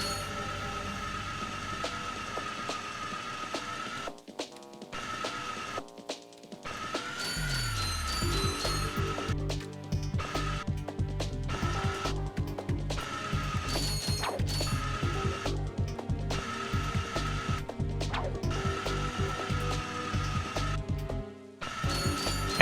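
Rail grinding in the Ratchet and Clank video game: a sustained metallic ringing whine layered with rapid ratcheting clicks and mechanical clatter, running continuously with a few brief gaps.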